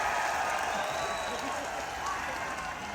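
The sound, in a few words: audience applause welcoming a guest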